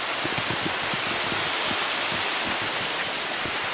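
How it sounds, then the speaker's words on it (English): Water pours steadily through a dam near the site of a World War II prisoner-of-war camp, a loud continuous broadband rush like a waterfall, with no voices. "Let's check out the water coming through here, see if we can get another view of it."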